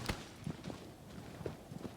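Horse hooves clip-clop faintly in a video game as the rider mounts, irregular soft thuds over a low background.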